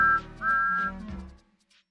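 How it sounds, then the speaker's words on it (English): A toy Thomas the Tank Engine whistle gives two short, bright, high tones in close succession, fairly near and clear, then fades to quiet. "Thomas always whistles beep,"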